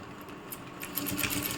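A sewing machine stitching the side seam of a churidar, its needle running in a fast, even whir that picks up and grows louder partway through, close and alone.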